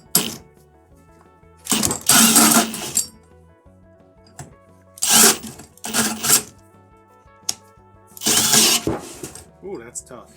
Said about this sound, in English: I still need to drill a hole in one of the sides to put the hairdryer in.